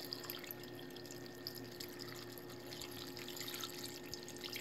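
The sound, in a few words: water poured into a pot for chanterelle chowder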